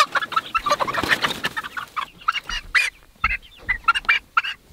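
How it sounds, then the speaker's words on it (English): Six-week-old meat chickens clucking close by in short, irregular bursts, several birds calling over one another with brief pauses between. "these chickens are 6 weeks old now"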